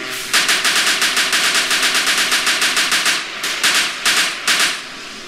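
Rapid bursts of automatic gunfire from the driver in GTA San Andreas, a long loud volley of evenly spaced shots followed by shorter broken bursts.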